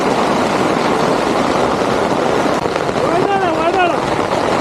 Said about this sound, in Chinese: 下冰雹了，